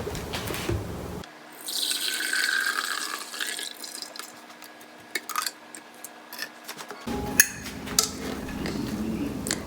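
Freshly made juice pours through a strainer in a home kitchen, giving a steady, close liquid splashing stream for several seconds, then scattered drips and clinks.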